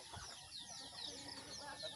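Chickens kept under a house cluck faintly in a short, scattered run of calls over low background noise.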